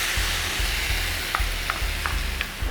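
Mushrooms sautéing in a pan while being stirred, giving a constant sizzle with a few soft utensil clicks and dull low knocks.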